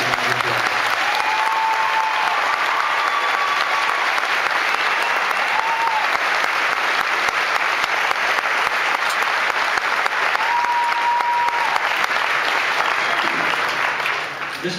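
An audience at a high school graduation ceremony applauding the top ten graduating students, giving a dense, steady, sustained clapping from a large crowd that lasts the whole stretch and trails off slightly at the end.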